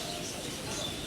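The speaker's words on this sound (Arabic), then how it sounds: "هذه البغبغانات" Parrots call at a bird reserve in a countryside park, a steady wash of overlapping chirps and coos at moderate distance over outdoor ambience.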